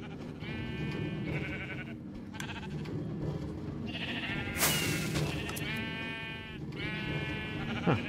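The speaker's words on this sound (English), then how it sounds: "Farm because there's a lot of sheep." Sheep on a farm in a video game bleat over and over, with wavering, nasal cries overlapping at a moderate distance above a low, continuous background murmur.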